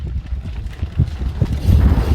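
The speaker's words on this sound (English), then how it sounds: "Should we get out of the wind, because I feel like I'm having to shout so you can hear me" Gusty wind buffets the microphone outdoors at a bike park, a loud, continuous low rumble that swells and surges throughout with no voices.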